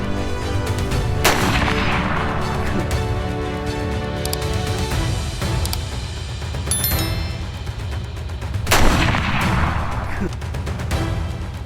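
A hunting rifle fired at a deer: two loud, sharp reports about seven seconds apart, each ringing out over a steady outdoor background.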